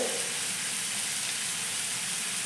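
Tomatoes and turmeric sauté in a pan for a shallot prawn roast, giving a steady, even sizzle and crackle from start to finish, close up, with no voices.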